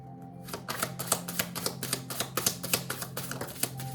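Tarot cards being shuffled up close in a steady run of crisp, rhythmic snaps and riffles over a low constant hum, with no voices.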